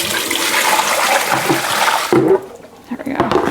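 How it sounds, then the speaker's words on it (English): Dirty rinse water from hand-washing a vintage quilt is dumped out in a loud continuous pour that cuts off abruptly partway through, followed by lighter splashes and drips, with speech nearby. "I'm also going to dump this dirty water."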